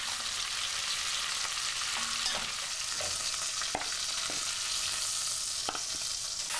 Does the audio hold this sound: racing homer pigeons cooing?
no